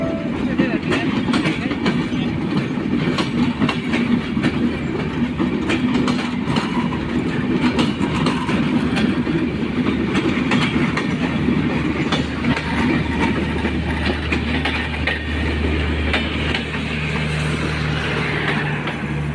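Onboard the Madhumati Express in an LHB coach, a steady, loud rolling rumble carries faint clickety-clack from the wheels on the rails, continuous and close throughout, with a voice heard over it.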